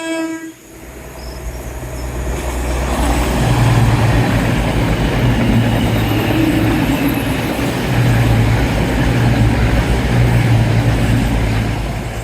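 A train rumbles loudly past at close range, a steady roaring and clattering of wheels on rails that swells and holds for several seconds.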